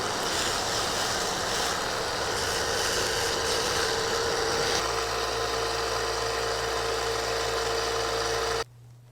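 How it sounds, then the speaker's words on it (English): A power sander shaping small wooden clown shoes runs with a loud, steady, close whir that shifts in tone partway through as the wood is pressed against it, then cuts off abruptly just before the end. "now I'm just gonna take it to this sander and see if I can shape it a little bit better"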